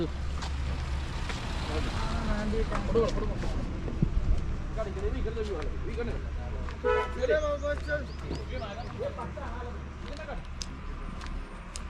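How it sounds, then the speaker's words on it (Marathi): Car horns toot repeatedly amid a traffic jam on a road where soil is being laid over asphalt, with engine rumble beneath and people talking over the din. "हे बघा पूर्ण ट्रॅफिक जाम आहे या ठिकाणी."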